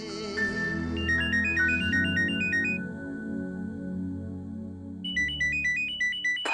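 A phone ringtone plays a bright, repeating electronic melody over a steady backing, pausing briefly before the tune starts again, close and clear.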